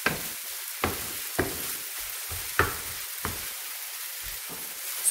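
Spoon strokes scrape through a lemon, parsley and garlic filling in a hot pan, with a steady faint sizzle broken by half a dozen sharp scraping knocks spaced about a second apart, close and alone.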